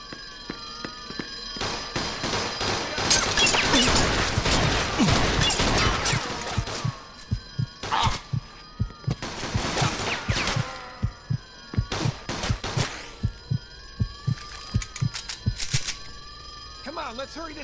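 Police open fire in the Mafia 2 video game, dense bursts of loud, sharp gunshots with echoing cracks, followed by sparser single shots, with game voices speaking over parts of it.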